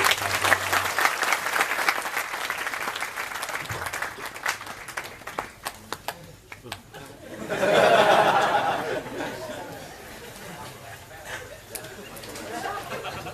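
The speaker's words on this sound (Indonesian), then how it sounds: "tepuk tangan untuk beliau" An audience at a talk applauds with a dense wash of clapping that swells briefly in the middle, mixed with some chuckles and murmuring voices.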